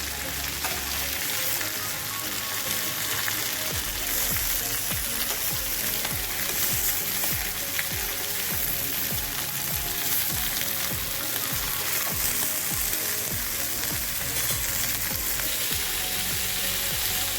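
Bangda mackerel fries in a pan with a loud, continuous crackling sizzle that stays close and steady throughout, with no voices.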